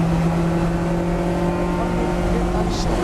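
A Lotus Elise race car engine running at night during the Dubai 24 hour race, a loud steady droning hum with constant tone, close and unbroken throughout.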